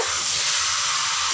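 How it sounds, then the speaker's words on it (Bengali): Chicken pieces sizzling loudly in a hot pan as they are stirred, a dense continuous hiss close up with no voices. "চিকেনগুলো দিয়ে একটু নেড়ে"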